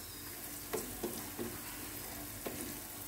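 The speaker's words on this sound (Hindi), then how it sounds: "इसे सौते कर लेंगे" Capsicum sabji (tota mirch) sautéing in a pan gives a steady, even sizzle of frying, with a few soft clinks of a spoon stirring through it. No one speaks.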